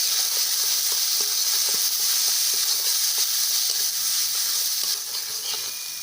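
Spices for a Bengali fish curry sizzle in a pan, a continuous bright hiss of frying with soft clicks of stirring, close and steady with no talk.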